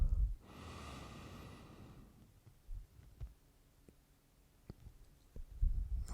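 A yoga practitioner draws a long, deep inhale through the nose, a soft airy rush lasting about a second and a half, followed by quiet pauses with faint breathy snorts and small body sounds.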